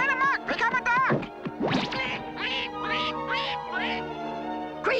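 Cartoon Smurfs turned into ducks quack in a rapid, loud, close chorus, with some squeaky meow-like cries mixed into the run of quacks.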